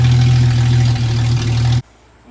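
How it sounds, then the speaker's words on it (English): Engine of an older Jeep XJ idling steadily and loudly up close while being checked for overheating, a constant low rumble with a faint hum that suddenly cuts off near the end. "We're gonna sit here and let it idle because at Jeep Fest, even idling, it was overheating."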